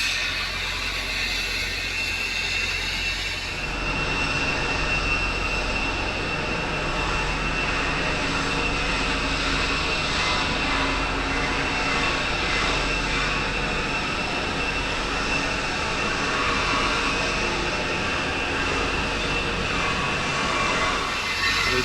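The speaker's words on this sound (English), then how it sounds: "The noise you can hear is from that steam outlet" Industrial steam outlet venting from a pipe by a work site, a continuous loud broadband roar and hiss that holds steady throughout with a deep underlying rumble, no voices.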